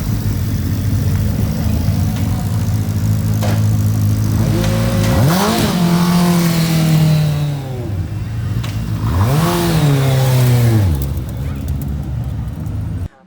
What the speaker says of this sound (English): you can see what these weapons with these Hayabusa powered 1340cc, 205 horsepower, 580 kilos with driver cars go like.